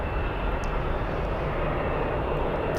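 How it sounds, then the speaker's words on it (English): An Airbus A319 takes off at Charlotte Douglas Airport with a steady, broad jet roar that holds even and unbroken throughout, sounding some distance away with no voices over it. "another Airbus A319. On the takeoff"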